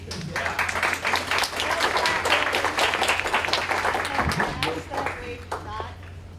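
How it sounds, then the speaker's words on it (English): Audience clapping at a county Republican party meeting, dense sustained applause with individual claps audible, tapering slightly at the end, with voices talking under it. "Clap."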